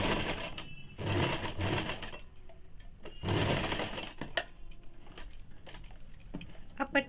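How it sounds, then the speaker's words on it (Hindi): A sewing machine runs in several bursts, stitching a fabric strip half an inch from the edge for a ladies' pant, its rapid mechanical whir alternating with short pauses and clicks close up. "दाहिने तरफ वाले में हम लोग इसे 1/2 इंच पे पट्टी को सीधा के ऊपर रख के सिलाई कर लेंगे।"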